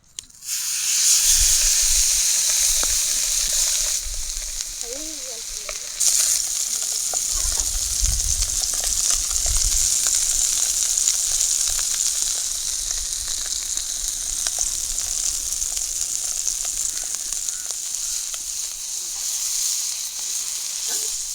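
A big three-kilogram fish fries in hot oil with a loud, steady sizzle and hiss that runs throughout, with a few brief louder bursts of crackle along the way.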